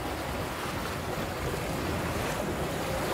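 Ocean waves rush and wash steadily around a racing sailboat far out at sea during a solo round-the-world race, with constant broadband sea and wind noise and no voices.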